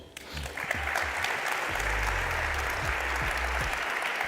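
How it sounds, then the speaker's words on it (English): A large audience at the DesignEuropa Awards 2025 in Copenhagen applauds with a dense, sustained wash of clapping that holds steady for several seconds, with faint background murmur underneath. "Let's give them all an applause."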